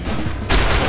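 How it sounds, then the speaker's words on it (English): An M60 machine gun fires in the shooter game XIII: loud, dense gunfire bursts in abruptly halfway through, over a steady rumbling backdrop of game noise. "I just like the M60 a little too much. It hits hard, and the burst fire option is really nice."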